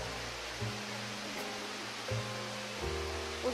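Steady broadband rush of a waterfall at Gabala, one of two falls in view, filling the clip with a constant wash of falling water under faint crowd chatter and a few brief low bumps.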